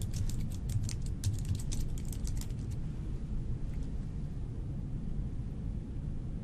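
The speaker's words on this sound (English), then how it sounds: "she finishes what she was typing in." Rapid keyboard clicks for a couple of seconds over a steady low hum, then only the hum with a faint stray tap.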